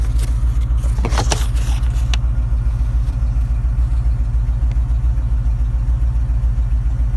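An old pickup truck, bought for $400, idles with a worn muffler: a loud, steady low rumble throughout, with a few brief clanks near the start.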